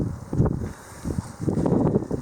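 Gusty wind buffets the microphone outdoors beside an Oklahoma Joe Highlander smoker, coming as low, rumbling bursts with a brief lull between them.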